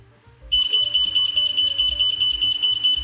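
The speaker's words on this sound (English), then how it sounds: "that there you can hear is my buzzer going off" A SpeedyBee F405 Wing Mini flight controller buzzer beeps in a steady, loud, rapid series of high-pitched pulses after a reboot, close up and continuing for several seconds with no talking.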